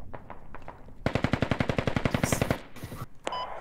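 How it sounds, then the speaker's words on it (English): Automatic gunfire in a military shooter video game, likely set at Al Basrah: a sharp, rapid burst of about twenty evenly spaced shots, loud and close, followed by a few scattered single shots and a short tail. "That guy was shooting at me."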